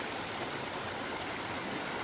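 Creek water at Roaring Run, the stream that once fed the water wheel of the Mount Etna iron furnace, rushes steadily as a broad, even wash that holds constant throughout without any talk.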